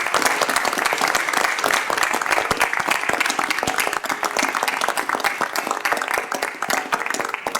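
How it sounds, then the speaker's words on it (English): Board members at a Commonwealth Transportation Board meeting stand and applaud, dense rapid clapping from a roomful of people that stays loud and steady throughout, with a faint hint of murmuring underneath. "please stand and applaud with me"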